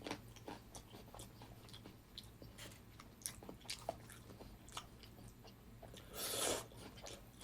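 Someone chews raw mackerel sashimi with garlic and chili pepper up close: faint, irregular wet squishing and soft crunching bites, with no talking.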